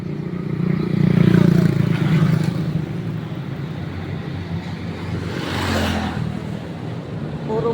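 Motorcycles and other vehicles pass along a morning street while someone waits for a tricycle ride. Engine drone and road noise swell as one vehicle passes close early on, then another rises again later, over a steady traffic backdrop.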